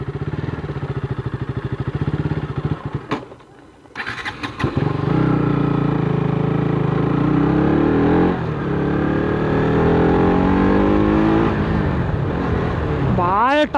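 A KTM RC 200 BS3 motorcycle engine idles with a throbbing pulse, then revs up hard and holds a loud, sustained roar with rising and falling pitch, very close.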